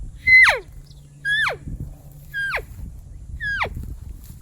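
A hunter imitates an elk cow call: four high, descending squealing mews, evenly spaced about a second apart, each short and fairly loud over a quiet low background hum.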